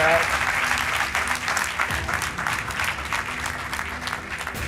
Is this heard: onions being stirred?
no